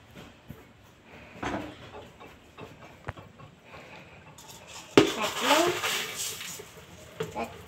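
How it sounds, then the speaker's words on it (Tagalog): Uncooked rice poured into a cooking pot, a loud grainy rattling rush that swells after a few faint clinks of the pot, with a voice talking in the background. "pwede na nating salangan ng bigas"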